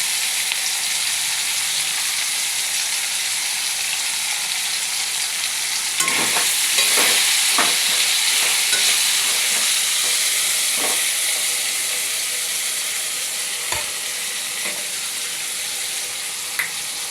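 Onions and potatoes fry in a pan with a steady, loud sizzle, and a utensil stirs them in several bursts of scraping strokes partway through.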